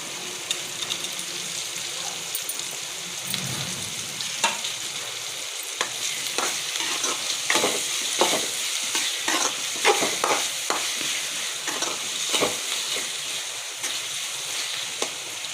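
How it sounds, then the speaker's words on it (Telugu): Curry leaves fry in a pan for a drumstick curry, a close, crackling sizzle punctuated by repeated scraping and clinking strokes of a spoon stirring throughout. "ఇప్పుడు కరివేపాకు వేసుకోవాలి."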